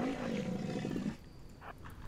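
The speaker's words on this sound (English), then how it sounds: "Oh, rhino noises." A rhino in RimWorld lets out a deep, loud roaring bellow for about a second, then a quieter rumbling tail follows.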